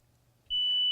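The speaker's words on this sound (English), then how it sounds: "the unit will beep at you" A single sustained high-pitched electronic beep from a Thermo TVA1000B instrument, after its self-check, starts halfway through and holds steadily, clear and close, after a near-silent lead-in.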